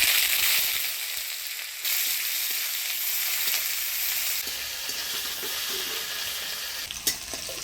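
Nigella seeds and chopped onion crackle in hot oil as a tempering, with a loud, continuous close-up sizzle broken by occasional stirring scrapes and one sharp clink near the end.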